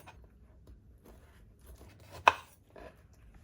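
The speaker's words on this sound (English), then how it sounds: "Slice the lemon into 8 pieces." A knife cuts through a lemon on a board, giving one sharp, close chop against quiet background with a few faint soft taps around it.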